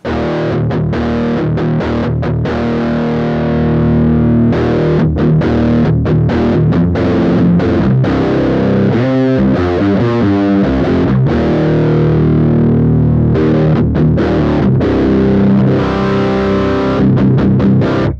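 Distorted electric guitar or bass through a Master Effects Super Forty pedal, its low shelf boosted for heavy bass, plays a loud, continuous riff of sustained chords and notes, with a busier passage of quick notes in the middle.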